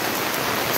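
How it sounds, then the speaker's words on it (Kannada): Heavy rain hammers down in a dense, continuous roar, loud and steady with no voices, heard for under a second. "ಅದೇ ಮಳೆ ಹೊಡಿತೈತಲ್ಲ ಇಷ್ಟು ಜೋರಾಗಿ"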